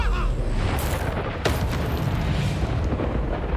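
An Incendio fire spell cast in Hogwarts Legacy bursts with a loud whooshing boom, then a dense roaring rumble that sustains and slowly fades, with no talk.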